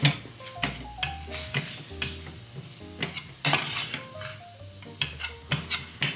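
A spoon stirring and scraping food in a pan, with repeated close scrapes and clinks against the metal and a light sizzle underneath; no one speaks.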